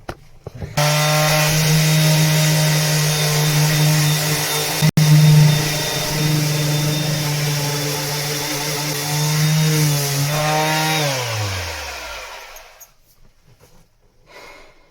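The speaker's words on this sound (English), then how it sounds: "I'm just going to give this a little bit more sanding and call that a day." A power sander runs continuously on a wooden boat hull for about eleven seconds, loud and close with a steady motor drone, then spins down and fades to near silence.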